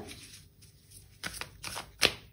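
Tarot cards are handled and drawn from a deck, giving a few soft, crisp riffles and flicks that end in one sharper snap. The sounds are close and quiet, with no talking.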